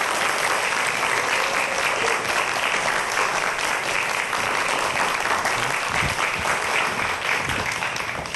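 A studio audience gives loud, sustained applause to welcome a professor lecturing on the science of biomimicry, a thick, continuous roar of many hands clapping for about eight seconds.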